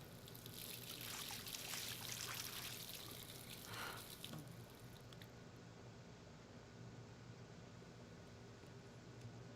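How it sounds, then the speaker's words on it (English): In the video game Life Is Strange, water runs from a faucet in a soft, steady trickling stream that fades to a quieter hiss partway through, alone without any talking. "Guess we'll just use the faucet."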